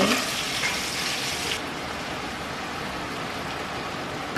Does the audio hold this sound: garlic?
yes